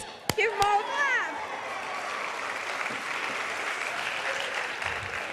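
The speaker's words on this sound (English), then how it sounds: "let's give them all a clap" Audience applause at a bookshop lecture event, a sustained bed of clapping from a seated crowd, with a brief voice and sharp knocks at the start before the clapping settles into a steady wash.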